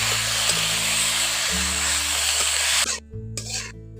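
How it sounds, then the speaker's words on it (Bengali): Cabbage stirred and fried with spices in a pan for a pitha recipe, a steady loud sizzle with scraping stir strokes and low machine-like hum, cutting out briefly near the end before resuming. "এখন বাঁধাকপিগুলো দিয়ে মশলার সঙ্গে ভালো করে একটু কেটে নিচ্ছি"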